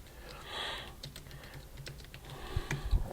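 Rapid, uneven keystrokes on a computer keyboard, close and fairly quiet, with a few heavier key thumps near the end and no talking.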